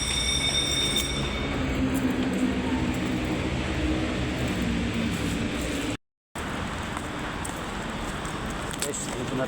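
An MRT train at Ortigas Station in Manila: a continuous loud rumble with wheel squeal and a high metallic whine, briefly cutting out for a moment before resuming; people talk nearby.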